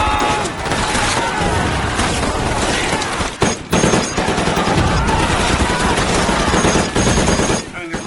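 Sustained machine gun fire in a World War II Pacific battle scene, loud and dense bursts running nearly the whole time with explosions and shouting mixed in, breaking briefly around the middle and near the end.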